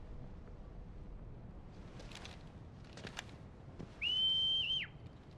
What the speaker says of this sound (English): Oh, look, they used a different whistle this time.